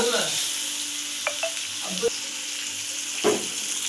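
Okra frying and sizzling in a pan for a Karnataka-style okra stir-fry, a steady soft hiss with a few scraping stirs and light clinks, close and alone.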